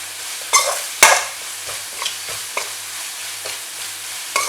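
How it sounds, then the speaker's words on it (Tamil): Mushroom masala with garam masala and ginger-garlic paste being sautéed in a pan at a roadside-style cooking setup, with a steady soft sizzle and a string of sharp spoon-scraping stirs, two louder strokes early on and lighter ones after. "இப்போது இதை நல்லா வதக்கணும், மசாலா எல்லாத்தையும்"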